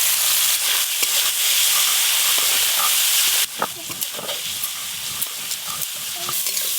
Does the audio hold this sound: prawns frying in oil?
yes